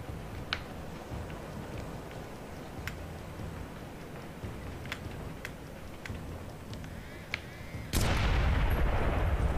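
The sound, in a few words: gunfire in video game Splinter Cell Blacklist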